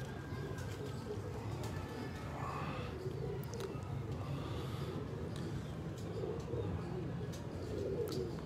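A 2018 Lahore champion pigeon and its loft mates coo in soft repeated throaty calls, fairly close, over a low steady background murmur.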